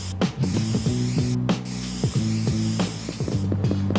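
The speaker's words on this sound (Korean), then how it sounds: "아까 플레이어가 수집한 다양한 색상의 스프레이 아이템을 갖고 저희 학교의 이름인 서강이라는 글자를 그리고 있는 모습입니다." A spray can painting graffiti in a video game hisses in repeated short bursts over a looping, rhythmic game music bed.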